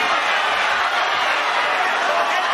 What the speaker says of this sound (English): And the crowd roaring behind Freeman.